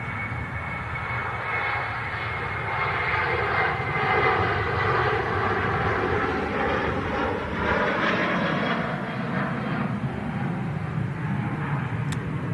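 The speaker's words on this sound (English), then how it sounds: "This is Jet2 737 rolling on 23 right." A Jet2 Boeing 737 jet rolls down runway 23 right, a loud, steady engine roar with a broad rushing hiss that holds evenly throughout, close and continuous with no talk.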